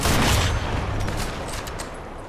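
Loud sniper rifle gunfire from the video game Sniper Elite 4 opens with a sharp blast and rolls into a long echoing boom that slowly fades.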